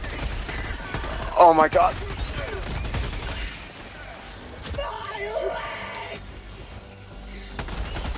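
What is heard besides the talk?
gunfire in the video game Helldivers 2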